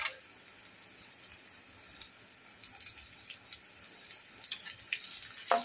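Bay leaf, green chillies and cashews frying in oil in a pan, giving a steady, soft crackling sizzle with a few sharper pops near the end, alone and without talk.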